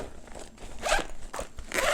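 A zipper on a TakeOff travel bag is pulled in several quick rasping strokes, close and crisp, with brief pauses between the zips.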